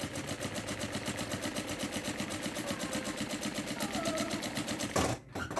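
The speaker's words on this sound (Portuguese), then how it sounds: "eu vou costurar reto, mas eu vou sair atropelando o meu vivo" Sewing machine stitching a straight seam through fabric and piping for an insulated bag, a fast, even mechanical chatter running continuously, close and steady, ending with a brief clunk.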